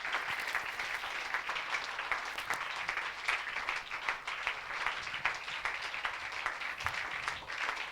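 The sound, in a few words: congregation applauding the Lord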